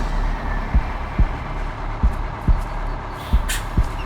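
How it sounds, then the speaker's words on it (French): A slow, deep heartbeat thuds in the background of the film soundtrack of Doctor Sleep (2019), beating low and steady beneath a dark rumbling ambience, with a faint higher swish near the end. "qu'il y a toujours ce battement de cœur en fond"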